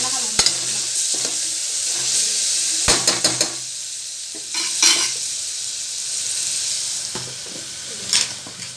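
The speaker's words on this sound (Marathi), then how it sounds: "अद्रक लसूण जरा मोठा अद्रक लसणाचा हे करून घ्यायचा आणि 2 मिनिटं चांगलं हलवून घ्यायचं." Coarsely chopped ginger and garlic fry and get stirred in a pan, a loud continuous sizzle close by, broken by sharp scraping and clanking strokes of the spoon against the pan.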